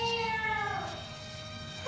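A cat lets out a drawn-out, wavering meow, fairly close and clear over a light background.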